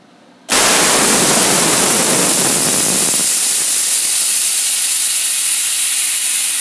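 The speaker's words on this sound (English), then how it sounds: "That will release all the pressure in the system so that I can pull the blade holder out" A bead wire remover machine abruptly vents its system pressure after an emergency stop: a sudden loud, sustained hiss of escaping air that starts sharply and stays strong, easing slightly in the low end partway through.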